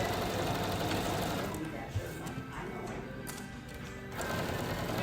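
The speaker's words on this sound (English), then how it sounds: "in my freshly oiled Bernina, and I'm now going to just sew around." A freshly oiled Bernina sewing machine running steadily while stitching a quarter-inch quilting seam, a loud, close, continuous mechanical whir with a slight dip partway through.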